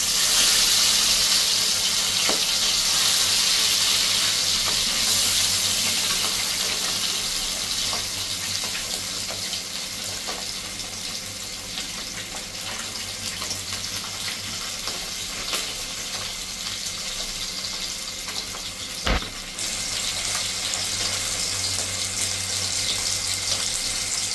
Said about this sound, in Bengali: আমি কই মাছগুলোকে ভেজে নিচ্ছি